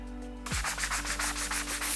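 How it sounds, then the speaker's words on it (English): A scouring brush scrubs an enamel metal sign, starting abruptly after a brief hum and continuing as a close, loud run of rapid rhythmic rasping strokes. "So we'll start with the scouring brush and we'll work away to the 180"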